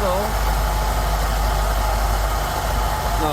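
A Rolls-Royce Silver Shadow engine idles steadily during carburettor tuning, a close, continuous low rumble with a constant drone and no change in rhythm.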